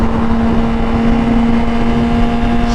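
A Suzuki GSX-R 1000 superbike engine hums at a steady pitch, loud and close, with a constant drone and no change in revs.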